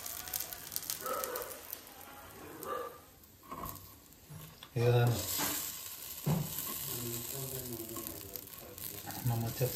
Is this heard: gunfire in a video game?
no